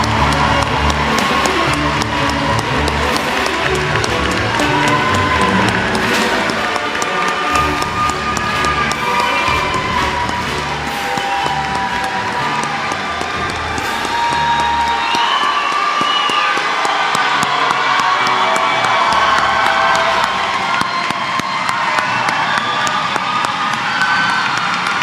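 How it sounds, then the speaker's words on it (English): A large audience cheers, whoops and applauds at a 2025 high school graduation ceremony for Odyssey Charter Jr/Sr, a loud, sustained crowd roar with shouting voices that swells and fades over about 25 seconds. "one more round of applause for our class of"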